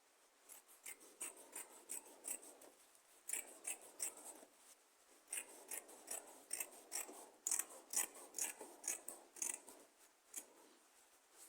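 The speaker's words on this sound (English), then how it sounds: "So I'm going to cut out this excess that is there." Scissors snip through excess fabric while a bubu gown is trimmed to length, giving a close, irregular series of crisp cutting clicks and rustles with short pauses, and no talking.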